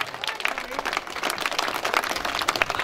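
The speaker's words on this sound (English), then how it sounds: "A big round of applause to the two sides for a fantastic contest here tonight." Crowd at a 2013 SMJFL Under 12 junior football grand final, Beaumaris Sharks versus Prahran Red, clapping steadily for both teams, a lively continuous patter of many hands with scattered louder claps.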